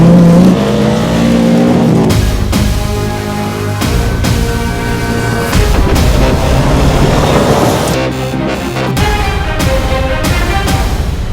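A minivan dirt race car roars close and loud, revving hard through repeated gear changes, with the engine pitch climbing, dropping and climbing again, alone without talk.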